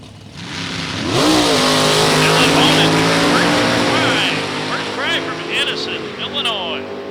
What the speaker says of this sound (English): Matt King from Manchester, Michigan, driving the A-Gas 55 Chevrolet.